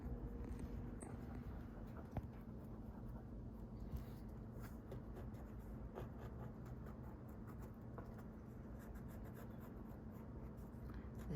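A pen scratches faintly and continuously along a template outline on paper, a soft steady drawing sound close by in a quiet room.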